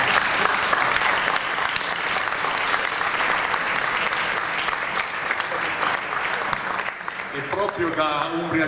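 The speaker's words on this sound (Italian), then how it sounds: "chiedo un applauso" Audience applause fills a dinner hall at a Cittaslow food and jazz evening in Todi, steady dense clapping sustained throughout, close and loud, with a voice starting to speak near the end.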